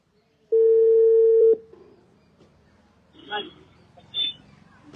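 A telephone tone sounds after a call is cut off: one steady electronic beep about a second long, loud and close, followed by faint voices talking in the background.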